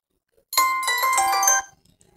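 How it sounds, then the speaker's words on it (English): A Twitter app notification sound previewed alone, a bright chiming ding-dong tone lasting about a second with a quick onset and clean cutoff, loud and close in otherwise near silence. "here you can change your ringtone notification sound"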